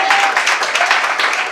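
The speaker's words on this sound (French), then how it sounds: "sous vos applaudissements" Loud, close applause from an audience, fluttering rapidly with slight swells, a brief tonal whistle or feedback briefly audible underneath.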